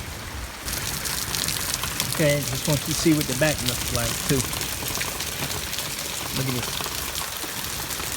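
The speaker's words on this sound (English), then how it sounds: "But yeah, I'm thankful for the rain." Heavy rain pours steadily onto a lawn, a constant close hiss of water running throughout while someone speaks briefly over it.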